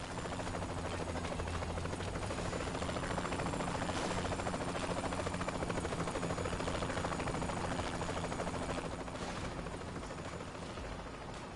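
A helicopter flying in Saints Row 3 Remastered, its steady, loud rotor chop and engine drone filling the scene continuously with little change.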